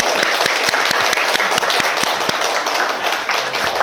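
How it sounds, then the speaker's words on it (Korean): Loud, dense applause from a church congregation, many hands clapping steadily and close by for several seconds with no talking over it. "박수 한번."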